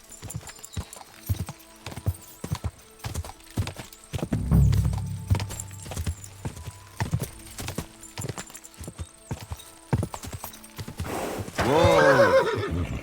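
In the video game Kingdom Come: Deliverance II, hooves clip-clop in a steady, close rhythm in the woods with a low thud midway, then a loud horse whinny rings out near the end.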